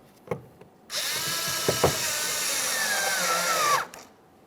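A power drill whirs steadily for about three seconds, close and loud, as it drives an anchor bolt into the rear door of a 2014-2019 Toyota Corolla, with faint clicks just before it starts.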